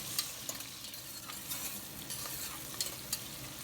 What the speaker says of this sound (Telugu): ఇప్పుడు అలాగే ఆనియన్స్ కూడా వేసేసి ఆనియన్స్ గోల్డ్ కలర్ వచ్చే వరకు కూడా వేయించుకుందాము.